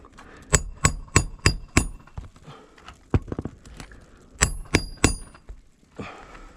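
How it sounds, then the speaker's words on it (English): A hammer strikes nails on a roof during a repair, sharp metallic blows coming in quick bursts of four or five with pauses between, and a soft trickle of loose roofing granules sliding down after the strikes. "whenever I use the hammer, you can just hear all those granules rushing down"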